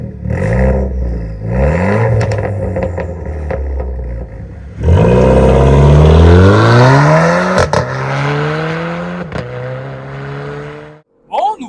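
A flame-red Renault Clio 4 RS, stage 1 limited edition, revs hard several times, the engine note climbing and falling in rising sweeps, then pulls away loudly under acceleration, with voices speaking briefly near the end.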